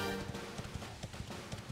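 Horse hooves in Dragon Quest XI clop in a steady, quick rhythm after the horse bell is rung, a moderately loud galloping beat that runs the whole stretch without talk.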